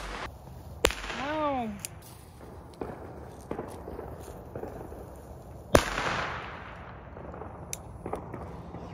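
A small consumer firework goes off outdoors: a rising whistle, then a loud sharp bang that trails into crackling, with scattered footsteps and movement around it.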